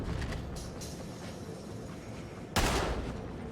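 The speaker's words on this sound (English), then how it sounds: "Well, I didn't think you'd shoot it with a shotgun." A single sharp shotgun blast from a video game set in sewers, fired once about two-thirds through over a constant low rumbling background.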